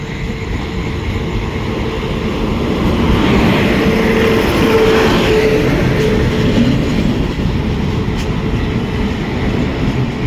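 The Konkan Kanya Express pulls into a station platform, a loud, steady rumble of rolling wagons with rhythmic wheel clatter and a faint screech that continues throughout.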